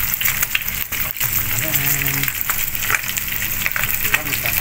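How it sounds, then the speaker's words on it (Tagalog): Oil crackles and sizzles steadily as milkfish fries in a pan, a continuous close hiss, with a voice speaking briefly over it. "luto na natin prito"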